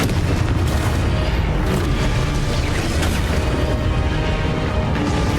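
Explosion spells go off repeatedly in Hogwarts Legacy on Nintendo Switch, a dense run of loud booming blasts that roll into one another without a break.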